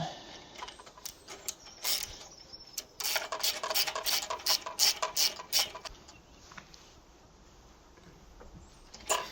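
On a Hyundai four-stroke engine, a ratchet clicks in quick bursts of sharp, close ticks while a bolt is tightened, with quieter pauses between strokes.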